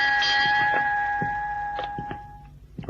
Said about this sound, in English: Who rang those bells?